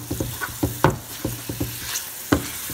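Beef sizzles steadily in a hot pan on high heat while a fork stirs it, with a string of sharp scraping clicks against the pan over the constant frying hiss.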